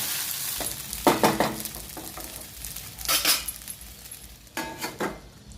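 Sago and peanut powder are stirred through hot oil in a pan, making repeated scraping, clinking strokes in bursts over a steady faint sizzle, close and moderately loud, with no voices.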